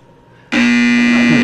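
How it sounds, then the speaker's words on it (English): A game show buzzer on a 1970s syndicated television panel quiz sounds once after a brief quiet lead-in, a loud, steady, harsh electric drone that holds for about a second. "Buzzer"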